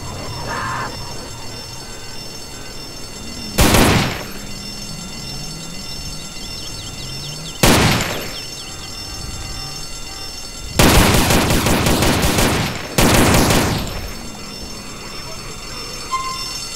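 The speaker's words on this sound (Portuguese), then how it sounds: "Tá atirando pra onde, meu filho?" Gunfire in a GTA San Andreas mission, coming as separate loud bursts, some short and some sustained, with quieter game sounds and a voice between them.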